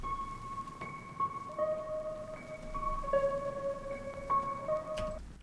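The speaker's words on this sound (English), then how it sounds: "the normal one sounds like this" A high piano sample played in FL Studio, with sustained bright tones entering one after another in a slow, layered melodic line over a quiet background hiss.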